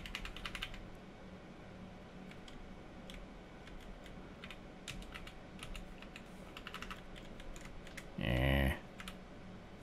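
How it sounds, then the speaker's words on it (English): Computer keyboard arrow keys clack in irregular clusters of light taps, steady for several seconds. A short grunt-like voice breaks in near the end. "Use the arrow keys."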